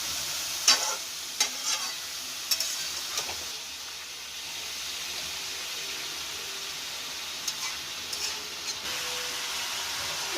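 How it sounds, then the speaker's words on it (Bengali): Boiled cabbage stirred into frying potatoes for a vegetarian cabbage ghonto, a soft steady sizzle under a few sharp clinks and scrapes of a spatula against the pan, fairly quiet and close. "এবার আমি সেদ্ধ করা বাঁধাকপিটা দিয়ে দেবো।"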